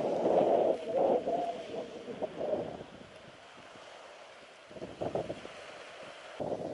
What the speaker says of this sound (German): Ja, aber schön windig.